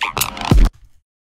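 A squelchy alien bass drop synthesized in Vital rasps and wobbles loudly for under a second, then cuts off abruptly into a faint tail.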